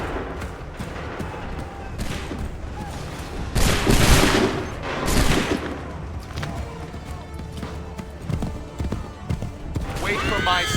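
Musket volleys crackle in Assassin's Creed III, a continuous battle of ragged gunfire bursts with louder near shots and distant pops, shouted commands and hooves mixed in.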